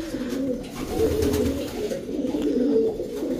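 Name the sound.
pigeons cooing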